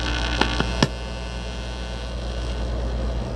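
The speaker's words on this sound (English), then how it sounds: "It's making a lot of fan noise." A guitar amplifier with nothing plugged in sits idling, giving off a steady low electrical hum and constant fan whir, with a few faint clicks early on and no voices.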